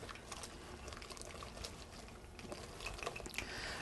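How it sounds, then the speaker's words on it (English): Beer poured a little at a time into a fish-and-chips batter, a soft continuous liquid trickle and light splashing close by, steady throughout with faint kitchen clatter. "I'm going to add beer a little bit at a time until I get a"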